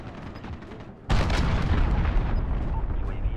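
In Modern Warfare multiplayer, a cruise missile slams down with a sudden loud blast after a quiet second, followed by a long rumbling roar and crackling debris that stays heavy to the end, with no voices.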